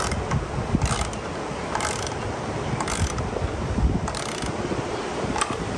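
A socket wrench ratchets bolts on a bench in repeated short bursts of rapid clicking, close and fairly loud, with brief pauses between strokes and steady wind noise behind.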